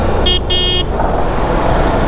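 Two short, loud honks from the horn of a 1158cc Ducati Multistrada V4S motorcycle, the second a little longer, over steady road and engine rumble.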